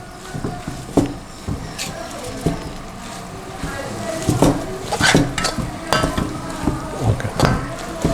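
Beef chukka stirred in a pan: a spoon scrapes and clinks against the metal over a soft sizzle, with repeated close taps and a person talking over it.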